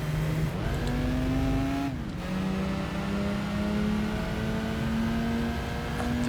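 Race car engine from Gran Turismo 3 drones loudly and steadily, pitch climbing through gear changes with a brief dip near two seconds, alone without talk.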